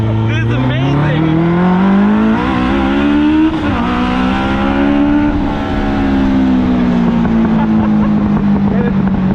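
A Westfield Seven sports car, a Caterham or Lotus Super Seven style roadster, accelerates hard up close, its loud engine note climbing through the revs, dipping at a shift and then climbing again.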